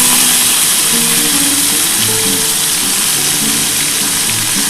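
Pomfret fish pieces drop into hot oil and fry with a loud, steady, close-up hissing sizzle that carries on without a break.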